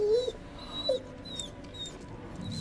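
In the horror video game The Devil in Me, a tied-up dog whimpers with thin, high whines, two short cries near the start followed by fainter repeated whines over a low background.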